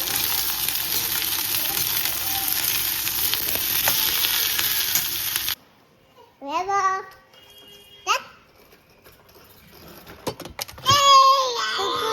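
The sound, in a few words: tempering spices frying in oil for dal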